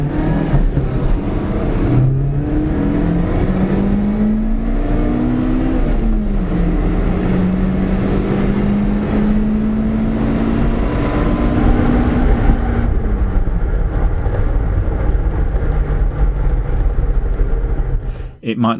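A 20-year-old lightweight Daihatsu Cuore Avanzato TR-XX R4 hatchback engine pulls loudly through the gears, its droning pitch rising and dropping at each shift, heard from inside the car under steady speech.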